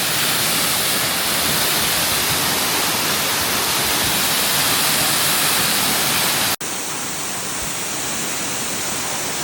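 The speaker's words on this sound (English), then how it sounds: "This is our first waterfall." Oboadaka Falls in Ghana gives a loud, close, unbroken roar of rushing water that drops briefly for an instant before carrying on just as steadily.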